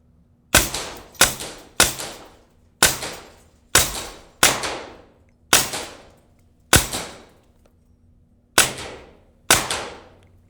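Taipan Slash air rifle shots striking targets on an outdoor range: about a dozen sharp cracks, each with a short ringing decay, fired singly at irregular intervals of roughly a second, loud and close with no talking.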